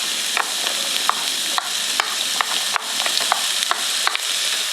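Onion and garlic stir-fry in a pan with a spoonful each of cooking oil and sesame oil, giving a constant bright sizzle broken by sharp scraping stirs at irregular intervals.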